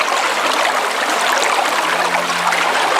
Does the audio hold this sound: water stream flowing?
yes